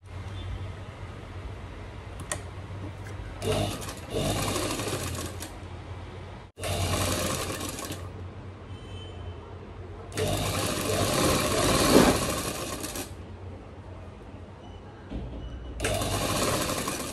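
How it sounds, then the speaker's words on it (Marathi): Sewing machine stitching the back neck of a Paithani saree border blouse, running in several loud, close bursts of steady mechanical whirring separated by short pauses, with no talking over the bursts. "1/2 इंच मार्जिन ठेवून शिलाई मारायची आहे"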